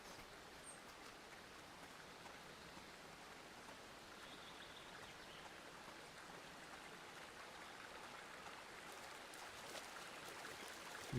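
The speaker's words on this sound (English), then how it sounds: "I don't remember a waterfall in the Great Tree before." Steady rushing water from a waterfall at the Great Tree in the game Eastshade, a soft continuous broadband wash with faint drips, distant and even throughout.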